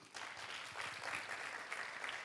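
Applause from an audience at a drug-free generation event, steady broadband clapping filling the clip at moderate level after a brief quiet start.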